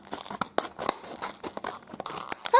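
Scissors snip open a Tsum Tsum booster pack, with crinkling and tearing plastic wrapper sounds in quick, irregular bursts close to the microphone.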